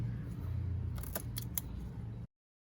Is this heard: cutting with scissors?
yes